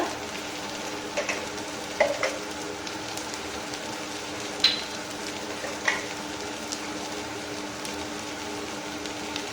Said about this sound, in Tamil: இப்போ இதை நல்லா வதக்கி விட்டுறலாம்.